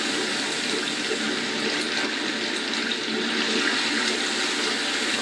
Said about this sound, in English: Through the waterfall.